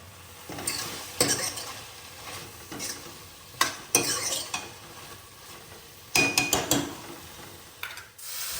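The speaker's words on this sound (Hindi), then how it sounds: "ये सब्जी एंड ये मसाला भुन चुका है लगभग" Vegetables and masala frying in a pan, with a constant sizzle and irregular bursts of spoon stirring and scraping against the metal, close up.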